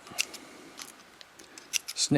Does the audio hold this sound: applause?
no